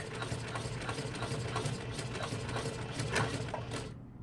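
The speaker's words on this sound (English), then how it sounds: "So let's go ahead and stitch over it and go back." A sewing machine stitches a tote bag seam forward and back in a steady, continuous mechanical whir, fairly quiet and close, running alone until it stops abruptly near the end.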